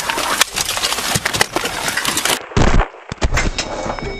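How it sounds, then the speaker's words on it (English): Shots ring out during a violent street confrontation with police and an SUV, loud sharp bangs close by over a running engine and harsh noise, with a sudden gap and then more bursts. "Shots fired!"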